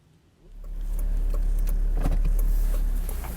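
A car heard from inside while driving: a low engine hum swells up within the first second, then holds steady and close, with a few faint rattles and clicks and no talk.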